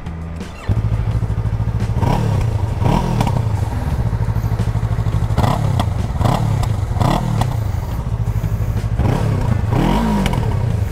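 A Yamaha MT-03 motorcycle with a modified exhaust idles close by, then pulls away through a series of rhythmic revs and gear changes, loud and steady with no talking.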